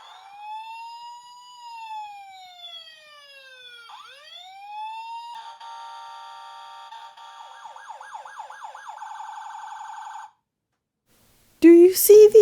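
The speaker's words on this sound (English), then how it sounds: "Kermit gets in the vehicle and pushes the buttons for the sirens and lights." A toy ambulance siren from a Fisher Price ambulance: electronic wailing tones that sweep up and down, then a fast warbling pattern, moderately loud and alone, ending in a brief burst of louder noise.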